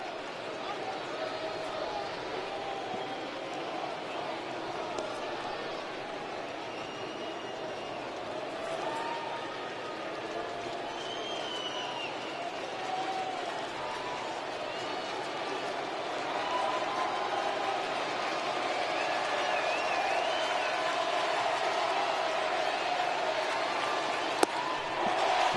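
A sellout baseball stadium crowd at a Phillies home game against the Nationals roars on its feet, a broad, sustained cheer that swells louder toward the end, with a broadcaster's voice talking over it.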